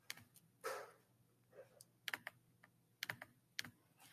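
Computer keyboard typing in a quiet room, a few isolated key clicks followed by short bursts of keystrokes at an uneven pace, close and clear with no talking.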